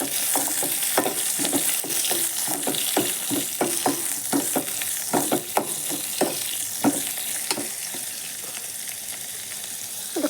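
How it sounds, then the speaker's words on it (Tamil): Onion, garlic and curry leaves fry in a pan with a steady sizzle, while a spoon stirs and scrapes in repeated close strokes through the crackling oil. "ஆனியன், பூண்டு, கருவேப்பிலை எல்லாம் சேர்த்து கலந்து கொடுக்கலாம்."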